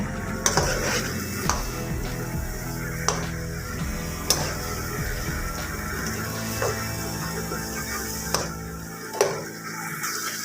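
Tomato, ginger-garlic paste and green chillies are stirred into arvi in a pan, with a steady soft sizzle beneath repeated sharp taps and scrapes of a spoon against the metal, close by with no talking.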